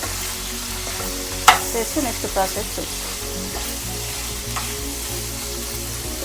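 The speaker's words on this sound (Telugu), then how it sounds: "ఇప్పుడు కొంచెం కలర్ మారే వరకు ఫ్రై అవుతుంటే" Bitter gourd fries in a pan for a stuffed spicy curry, giving a steady close sizzle throughout, with a few stirring clinks and scrapes early on and a brief spoken remark over it.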